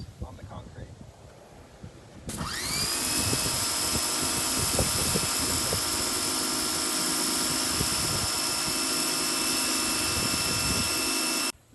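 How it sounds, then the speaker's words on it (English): A Generac 4200 PSI pressure washer with a turbo nozzle starts up and blasts concrete, giving a loud, steady, hissing roar for about nine seconds before it cuts off. A person talks faintly before the spray begins. "Here I'm going to demonstrate how the turbo nozzle does against this on the concrete."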